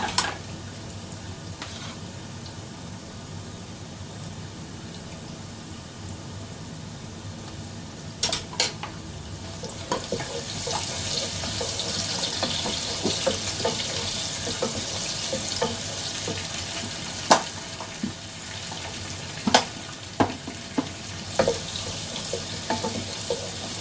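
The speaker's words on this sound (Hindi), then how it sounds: "थोड़ा सा लहसुन अदरक का कच्चापन दूर करने के लिए इसको 1 से 2 मिनट हम भूनेंगे।" Garlic-ginger paste frying with browned onions in a pan sizzles as a loud, continuous hiss that swells partway through, dotted with sharp clicks and scrapes from stirring.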